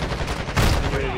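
A short burst of gunfire in a first-person shooter video game, a quick rattling volley lasting about a second at moderate loudness, with no speech.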